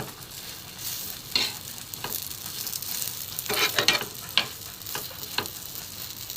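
Brinjal slices fry in a pan with light oil, giving a soft, steady sizzle with occasional sharper crackles and clinks from stirring, quiet and close, with no talking.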